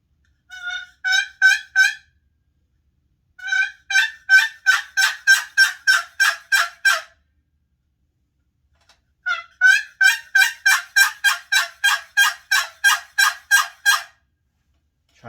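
A wooden box call imitates a wild turkey gobbler in three loud, rapid bursts of raspy yelping strokes, each run accelerating, separated by short pauses.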